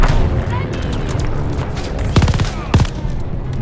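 Call of Duty: Vanguard gunfire over a steady, noisy background, with two short rapid bursts of shots close together near the end.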